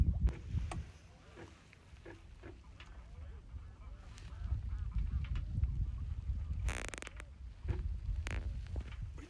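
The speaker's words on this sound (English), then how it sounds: "You can hear the autopilot and some birds." Ducks or geese honk and quack now and then over a steady low hum of a sailboat's autopilot and lapping water while cruising, with a brief rushing burst partway through.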